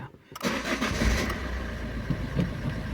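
A Peugeot 207 with a 1.4 HDi diesel engine cranks briefly and catches, then settles into a steady, close idle rumble.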